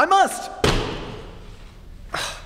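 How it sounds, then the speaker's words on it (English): A heavy crash as a night table is knocked over, a radio drama sound effect: a sharp thud cutting in after a voice, a short decaying rumble, then another brief knock. "You knocked over your night table."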